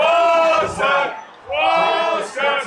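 A WWE Money in the Bank 2023 wrestling crowd roars and chants for Walter, two loud surging waves of massed voices rising and falling, with a brief lull between them.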